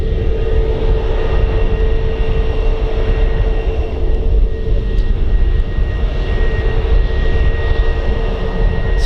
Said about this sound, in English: have a listen to these Neo engines right up close